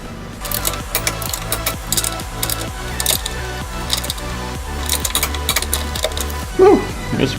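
A torque wrench tightens bolts on a vehicle cross member to 54 foot-pounds. It gives a steady, rapid train of sharp metallic ratcheting clicks at close range throughout, with a louder knock near the end.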